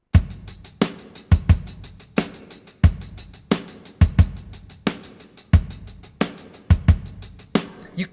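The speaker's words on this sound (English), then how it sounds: "You clearly know that these are fake drums." Virtual drum kit played with flat, unvaried velocity: kick and snare hits plus a steady stream of hi-hat ticks in a repetitive mechanical pattern, each hit equally loud, dry and close.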